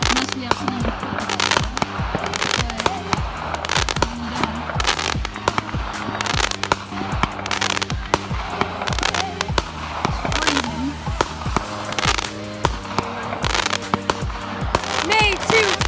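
Victoria Day (May 2-4) fireworks bursting in a rapid, dense barrage of cracks and booms, loud and continuous throughout, with people's voices mixed in.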